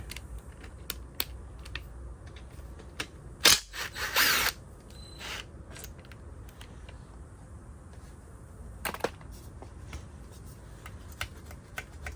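Ratchet working on 10 mm bolts during a CR80 dirt bike teardown, quiet scattered clicks and short ratcheting bursts with a couple of louder metallic rattles, in a calm workshop.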